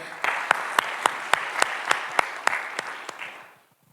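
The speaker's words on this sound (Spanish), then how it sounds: "Un aplauso" Audience applause welcomes a speaker at a data-culture congress in Mexico City, a steady round of clapping with sharp individual claps standing out, fading away near the end.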